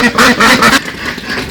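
Ducks in a village setting give a run of loud, close, nasal calls in quick bursts, then fall quieter with softer scattered sounds.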